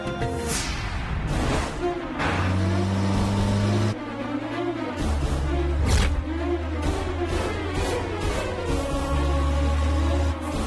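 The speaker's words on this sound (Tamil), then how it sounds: "உன் பின்னாடி வண்டி." A car approaches from behind on a street, its engine humming and rising in pitch with several shifts in tone, heard close amid background noise and scattered movement sounds.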